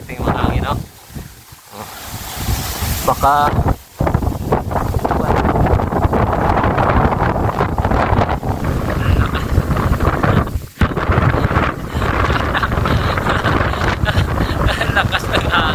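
Strong gusting wind buffets the microphone on a mountain summit, a loud continuous roar with brief lulls, while a person speaks and exclaims over it.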